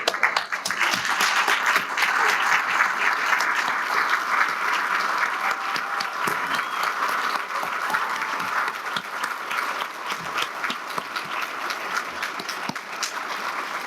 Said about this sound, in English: give Dr. King a round of applause